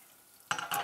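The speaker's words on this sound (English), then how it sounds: "1/4 cup of heavy cream. And that's gotta go into a medium to hot pan." Heavy cream hits a medium-hot pan with an abrupt, close sizzle that bursts up after a quiet moment and then surges again, short and bright.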